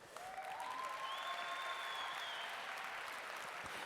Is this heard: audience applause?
yes